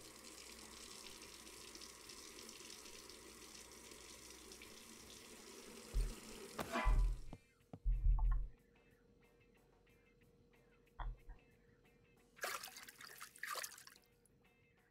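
Water pours from a tap into a vessel while brewing beer in the Brewmaster video game, a steady faint stream for several seconds that stops, followed by brief splashes and drips.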